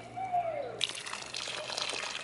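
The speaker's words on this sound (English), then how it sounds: "Me and Riley just made a river. See how it works" Water runs through a small homemade river channel, starting as a low quiet trickle and then turning abruptly into a steady, louder rushing splash that continues close by without any talk.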